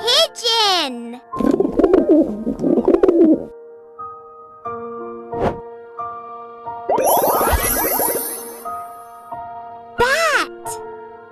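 A pigeon gives soft, low cooing calls among tonal vocal sounds, with a voice speaking at intervals.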